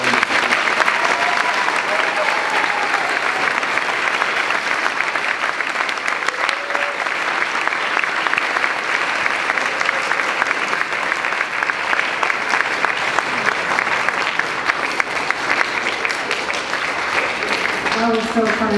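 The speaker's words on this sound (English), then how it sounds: "one huge round of applause for" Steady, loud audience applause at a graduation, a continuous wash of many people clapping that fills the whole stretch without a break.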